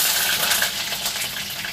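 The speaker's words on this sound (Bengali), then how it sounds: "ভাজার জন্য আমি আলুগুলোকে দেব।" Potatoes hit hot oil in a wok, producing a loud, dense, hissing sizzle that stays steady and close for the whole moment.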